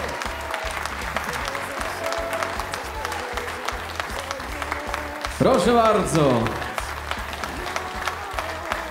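Audience at a music awards show applauding a band named performer of the year, steady clapping under a voice, with a brief loud swell of sound partway through.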